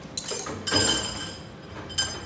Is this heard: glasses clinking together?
yes